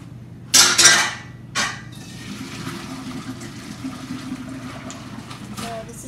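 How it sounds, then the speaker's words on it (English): Soft candied orange peels tipped into a metal strainer in the sink, a loud clatter and splash at first, then a steady trickle of draining liquid, close. "So we've got our strainer. Put that in the sink. Just"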